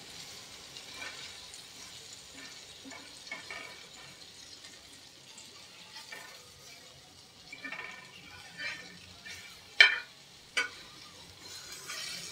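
Prawns stir-fried in a pan for a crispy prawn fry, a faint soft sizzle with scattered light scrapes of stirring and a couple of louder knocks near the end, no talking.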